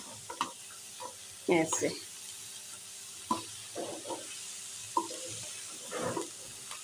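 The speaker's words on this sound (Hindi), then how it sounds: "चूल्हे की आंच खोलने के बाद ना आपने चम्मच चलाकर ये देखें इस तरह से मिक्स करना" A spoon stirs samosa vegetable filling in a pan on the stove, giving a series of soft scraping strokes at an irregular pace over a light sizzle, with a few brief spoken words.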